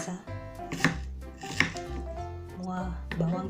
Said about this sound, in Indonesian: Semua bawang kita iris.